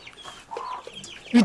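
Hen clucking in a short series of soft calls, close and fairly quiet, ending in a louder squawk.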